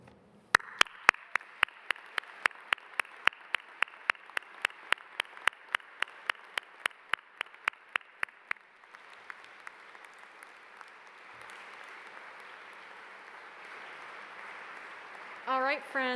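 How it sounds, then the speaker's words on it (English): Scattered, sparse clapping at a 2021 commencement ceremony for the School of the Environment graduating class, starting as distinct individual claps and settling into a fainter, steadier patter of applause. "Please remain standing as we offer one more round of applause to your family, to your friends, to your loved ones"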